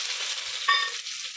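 Chopped ripe tomato dropped into a hot pan with ginger and green chilli, giving a soft steady sizzle with a brief brighter hiss as it lands, fairly close and without talk.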